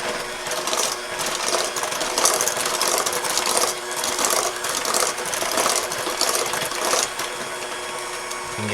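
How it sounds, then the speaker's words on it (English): An electric mixer whirs and clatters steadily through apple fritter bread batter made with Granny Smith apples, a busy mechanical rattle running close and continuous with no talk. "Now let's just turn this on and get it all mixed in really well."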